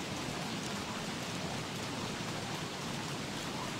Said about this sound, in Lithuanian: Blemba tas lietus kaip nervuoja mane